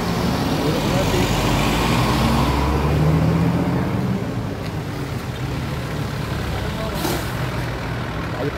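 Road traffic coming from Manila rolls past a roadside spot in Plaridel, Bulacan, a continuous heavy roar of trucks and cars with a brief hiss like an air brake, fairly close and steady, with a voice faintly over it.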